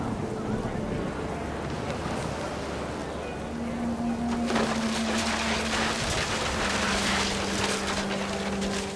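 In the video game What Remains of Edith Finch, heavy rain pours in a constant hiss that swells into a louder downpour about halfway through, with sustained musical tones running underneath.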